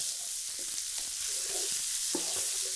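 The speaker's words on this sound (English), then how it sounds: "We're just going to let this cook down for a few minutes until everything starts to soften and come together." Fried rice ingredients sizzling steadily in a pan, a constant bright hiss with faint scattered stirring and clinking sounds, heard close and alone without talk.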